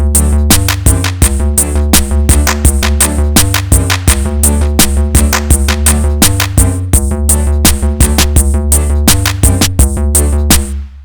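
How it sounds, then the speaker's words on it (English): A reggae dub mix plays loud and steady, its drums and keyboard stabs repeating with a dotted eighth-note echo delay that smears each hit into rhythmic trailing repeats. "anything can have an 8th echo added to it, like this"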